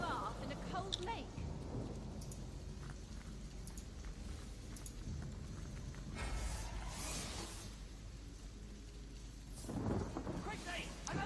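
Rain summoned by a spell in the fantasy role-playing game Divinity: Original Sin, a rushing downpour with rumbling bursts that swell around the middle and near the end, under game voices and music.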